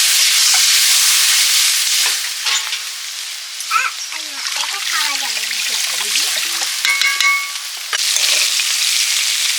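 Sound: potatoes and eggplant frying in oil

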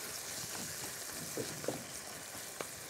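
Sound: meat searing in a pan

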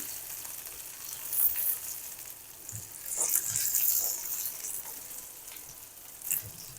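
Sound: capsicum slices frying, being flipped in pan

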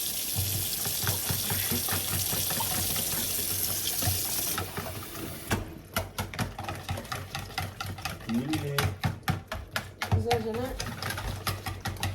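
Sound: water running from a tap

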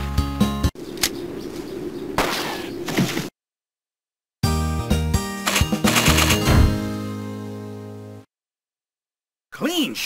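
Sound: gunshot in a bear and moose hunting arcade video game

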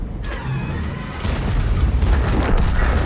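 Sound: tank cannon shell explosion, video game

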